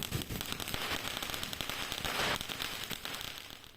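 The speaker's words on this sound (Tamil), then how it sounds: "பெரிய பெரிய பட்டாசுலாம் அப்படியே சூப்பராக வந்து போட்டுட்ருந்தாங்க" Large Diwali firecrackers crackle and pop continuously at night, a dense rattling barrage of rapid bursts with a slightly louder swell midway.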